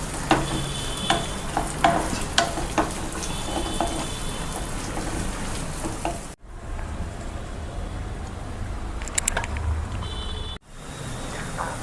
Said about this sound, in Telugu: కరివేపాకు ఇవి వేగనిద్దాం కొంచెం ఎర్రగా వచ్చే వరకు.